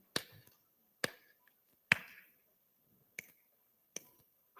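Five sharp, well-spaced finger snaps and claps sounding one after another in a quiet room as part of a number-guessing game, each a crisp isolated crack with a short decay.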